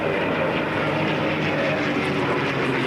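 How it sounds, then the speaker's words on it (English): A Lockheed P-38 Lightning twin-engine fighter takes off at the Boscombe Down airshow in 1992, its propeller engines giving a loud, steady roar that holds throughout without a break and with no talking. "The P-38 Lightning getting airborne."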